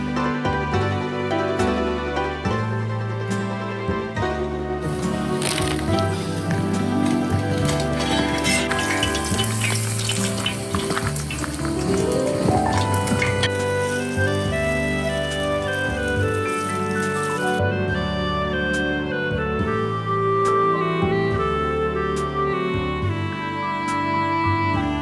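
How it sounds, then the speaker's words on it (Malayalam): Fish pieces shallow frying in oil, a dense continuous sizzle and crackle like rain, steady and close, over a bed of background music, with no talk. "മീൻ കഷ്ണങ്ങൾ ഇതിൻ്റെ ഇവിടെ ഫ്രൈ ആയിക്കൊണ്ടിരിക്കുന്നുണ്ട്"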